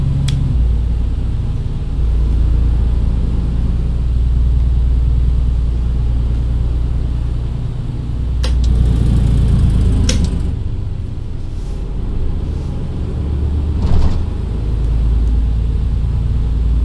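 A heavy truck's Jake brake in a trucking simulator, apparently a first-generation Freightliner Cascadia, gives a steady, loud, low engine rumble for about seventeen seconds, swelling a few times, with no one talking.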